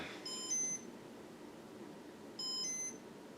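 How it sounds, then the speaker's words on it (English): Two short electronic beep bursts from a 1991 Casablanca Marquis Comfort-Touch ceiling fan control in bright brass, each a quick high tonal chirp, about two seconds apart over a quiet room hiss. "All the beeping you're hearing is for the light"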